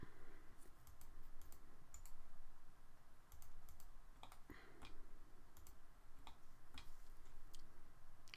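A computer keyboard clicks with scattered, irregular keystrokes during AutoCAD drafting work, quiet and close with no talking.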